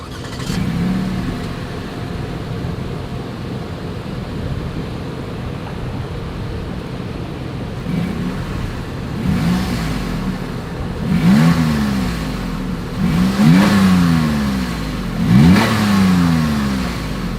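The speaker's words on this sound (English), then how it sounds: "Here is that exhaust clip." Exhaust of a 2022 Lexus RX 350 idles steadily, then gives a series of short revs that climb and fall, each burst a little louder and closer together toward the end.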